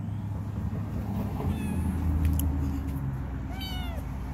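A cat meows outdoors in a garden, giving two short meows, a faint one near the middle and a louder rising one near the end, over a low engine-like rumble.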